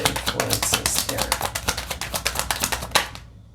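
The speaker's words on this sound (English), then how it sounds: "Let's shuffle again." Tarot cards being shuffled by hand, a rapid run of crisp riffling taps close to the listener that stops abruptly at the end.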